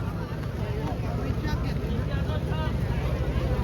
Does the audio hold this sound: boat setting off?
yes